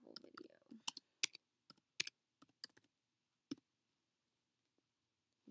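Computer mouse clicking in a series of sharp, close clicks of irregular rhythm, some in quick pairs, with a brief voice at the start and then quiet gaps between the last few clicks.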